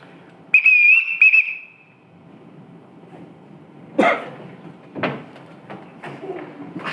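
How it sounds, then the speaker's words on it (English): A man blows a shrill whistle in a household to summon everyone, two quick piercing blasts near the start. A throat clear and scattered knocks and shuffling sounds follow. "Everyone in this house answers to a whistle."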